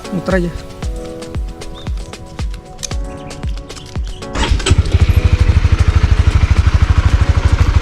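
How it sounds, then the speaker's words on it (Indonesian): A motorcycle engine cranks with a few starter turns, then catches and settles into a loud, steady, rapid idle close by, with someone talking over the cranking. "gue nyalain mesin ya, coba muter"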